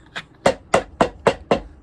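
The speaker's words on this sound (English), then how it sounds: "we'll do a little hammer time" Hammer striking a shoe during boot repair on New York casuals: one lighter tap, then four sharp, evenly spaced blows, close and loud with no talking.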